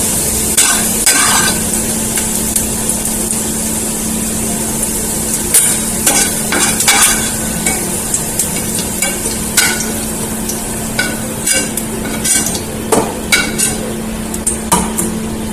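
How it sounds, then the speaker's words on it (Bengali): Onions frying in a pan until reddish, a loud continuous sizzle broken by frequent spatula scrapes and clinks against the pan. "পেঁয়াজটা একটু লাল লাল করে ভেজে দিলাম"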